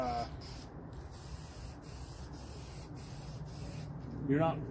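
Spray paint hisses from an aerosol can in short bursts, light coats applied close to a leaf pack, with brief pauses between each pass and someone speaking at the end.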